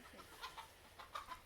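Several short clucks from a backyard flock of chickens at a chicken trailer with netting on a homestead, faint bursts spaced irregularly over a low, steady outdoor background.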